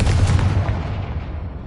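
Confringo blast spell in Hogwarts Legacy, a single heavy booming burst at the start that rumbles and fades away over a second or so.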